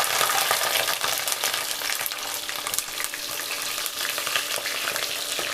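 Whole small onions fry in oil with fenugreek, mustard seeds and curry leaves, giving a loud, dense, unbroken sizzle close by with faint stirring beneath it.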